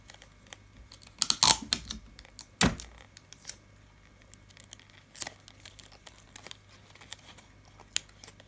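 Paper being folded over and taped down, heard as scattered crinkles and sharp rustling bursts with a couple of louder tearing snaps and quiet gaps between them, close up, no talk.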